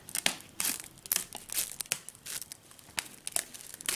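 Scissors snip through a sheet of plastic cling wrap, giving a string of crisp crinkling and crackling bursts at close range with no talking.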